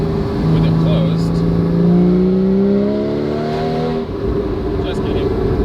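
A Porsche GT4 (981) engine revs up in a steady pull with its Valvetronic Designs exhaust valves closed, rising harmonic tones sweeping upward for about four seconds before easing off, loud and continuous.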